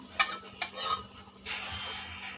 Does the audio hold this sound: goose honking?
no